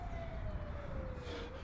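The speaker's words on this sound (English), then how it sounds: "My ambulance is coming, mate." An ambulance siren wails steadily in a single gliding tone over low rumbling noise, sounding somewhat distant.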